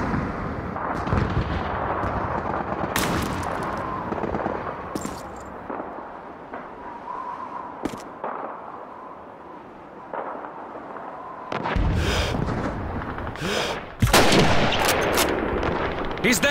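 Gunfire in the Call of Duty 2 video game, in a sniper fight around City Hall: sharp, scattered shots and heavier booming blasts crack over a constant battle din, with a loud cluster of reports near the end.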